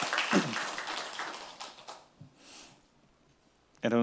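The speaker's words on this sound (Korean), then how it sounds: "하나님 앞에 다시 한번 영광의 박수 한번 돌려드리시겠습니다" A church congregation claps in a dense burst that gradually thins and fades, leaving near-quiet before a voice starts at the very end.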